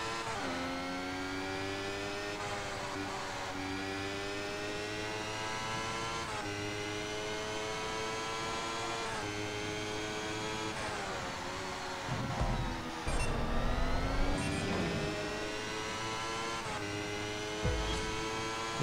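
F1 race cars lapping Yas Marina in a racing video game, with a high, whining engine that rises and falls through gear changes and another car's engine passing close by.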